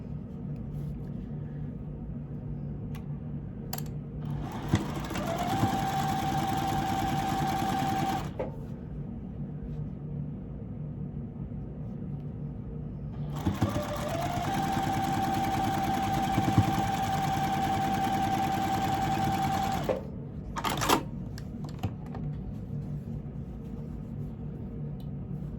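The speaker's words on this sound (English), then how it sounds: "take it over to the sewing machine to now join these 2 pieces together" A sewing machine joins two quilt pieces of cotton fabric in two long steady bursts of stitching, a few seconds each, with a pause between and a short final burst; fairly close and clear.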